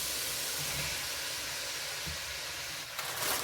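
Snap peas and onions hit a hot pan, and a broad, steady sizzle and hiss carries throughout, with a small clatter near the end.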